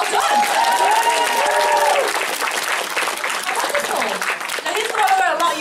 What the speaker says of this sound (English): applause for Miss Spicer, well done!